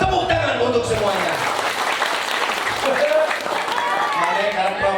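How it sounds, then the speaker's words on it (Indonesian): Applause from the audience at a comedic Sundanese-language Islamic sermon on television, a continuous wash of clapping mixed with voices and cheering throughout. "Tepuk tangan untuk semuanya."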